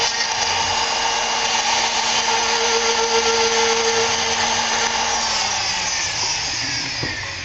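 A drill runs steadily up close, scuffing a shiny metal bonding surface during a groove job on a 2006 Impala SS 5.3L, a continuous loud whirring grind that winds down near the end.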